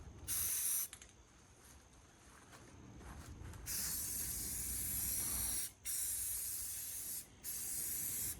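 Primer sprays from an aerosol can onto a truck bumper on a 1966 International Harvester, a loud steady hiss in long bursts with brief pauses between passes, with no talking.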